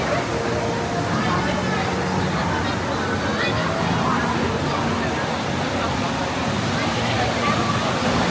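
Water rushes and sloshes steadily at the River Quest rapids ride in Phantasialand, a continuous loud wash with a crowd murmuring faintly underneath throughout.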